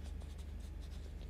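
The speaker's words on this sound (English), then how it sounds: "you can actually add in some Inktense blocks directly onto the wet areas to get a bit of texture in there." A Derwent Inktense pigment block drawn across wet paper, giving a soft, steady scratchy scraping in a quick series of short strokes, close and quiet with no voices.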